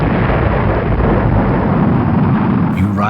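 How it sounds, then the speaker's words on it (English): Apollo 11 rocket engines igniting at launch produce a loud, dense, continuous roar with a deep rumbling low end that holds steady for about three seconds. "The engines ignite and fire claims the sky."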